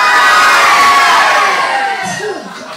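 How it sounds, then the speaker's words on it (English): A comedy club audience in Tenerife cheers and shouts loudly together, a dense roar of voices that swells and then gradually fades. "If you think I'm gorgeous, give us a cheer."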